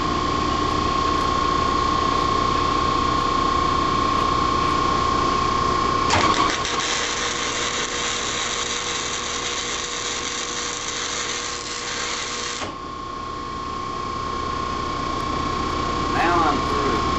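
Arc welding on a three point hitch for a Sears ST16 tractor, a steady crackling buzz that holds loud for about six seconds in the middle of a constant background hum, with brief talk nearby.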